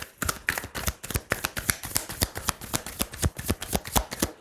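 Tarot cards handled and shuffled close by, giving a rapid, steady run of crisp papery flicks and slaps that goes on without pause, with no talking over it.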